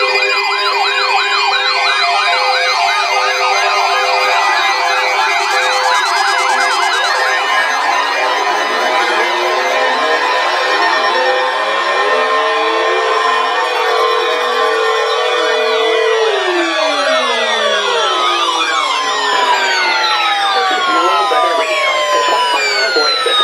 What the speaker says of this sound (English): a test of the public warning and alarm for transmitters in West Central and Southwest Florida listening area